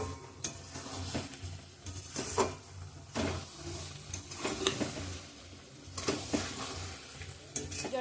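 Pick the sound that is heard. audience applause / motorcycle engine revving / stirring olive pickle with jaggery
stirring olive pickle with jaggery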